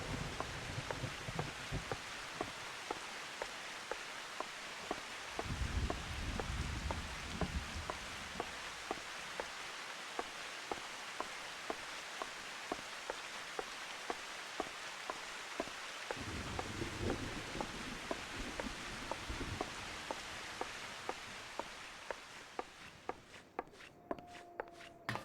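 Steady rain hiss in Final Fantasy XIV, with regular footsteps tapping along through a town, ambient and constant at low level with no talking, easing slightly near the end.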